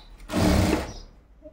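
A sewing machine stitches cross-cut blouse cloth pieces in one short, loud whirring burst that rises and then fades away, heard close.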